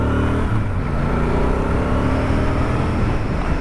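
A 2023 Royal Enfield Super Meteor 650 cruiser engine pulls under throttle, a loud continuous rumble with heavy wind noise, steady and close throughout.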